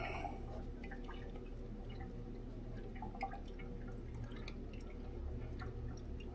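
Motor oil pours from a 5-gallon jug into the engine of a 2025 Ford Maverick Hybrid during an oil change, a soft steady liquid trickle with small drips over a constant low hum, no talking.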